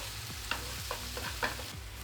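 Soft zucchini cooking in a pan with mint is stirred with a few scraping strokes over a low, constant sizzle, with no voices.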